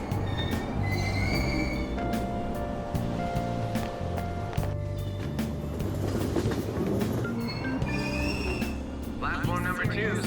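A subway train pulls away from Aoyama-Itchome station in the Persona 5 Royal video game, rumbling loudly, its wheels squealing and clattering in rhythmic bursts.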